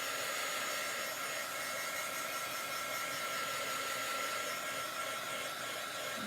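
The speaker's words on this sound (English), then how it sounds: "I'm just drying my branch so that my glitter doesn't stick to it when we put the glitter down." A hair dryer blows steadily on a chalked branch before glitter is applied, a continuous close whooshing whir that holds unchanged throughout with no talking.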